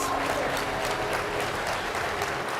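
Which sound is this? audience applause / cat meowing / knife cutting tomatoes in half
audience applause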